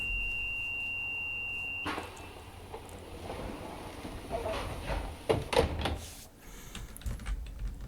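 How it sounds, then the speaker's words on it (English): Class 142 train doors in Train Simulator Classic sound a steady warning beep, then slide and close with a series of clunks and thumps over a low engine rumble. "the sounds for the doors are quite similar here"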